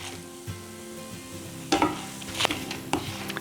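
Grated dried coconut dry-roasts in a pan for a South Indian lentil and potato dish, a soft continuous sizzle broken by a few sharp scraping stirs of a spoon near the end, close and quiet.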